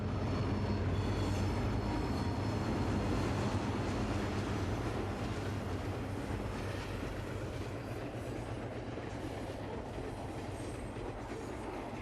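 A train emerges from Eastwell Tunnel near an intermodal freight terminal south of Douglas, making a dense, continuous rolling roar with faint wheel clatter that holds steady throughout.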